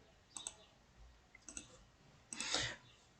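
A marker or chalk writes on a board in short bursts of scratchy strokes, three quick clusters of squeaks and scrapes in a quiet room, the last one longer and louder.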